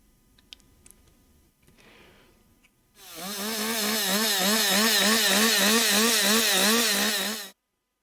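A chainsaw bursts into a loud, high revving buzz after a few seconds of faint clicks and handling noise, holding steady for about four and a half seconds before cutting off sharply.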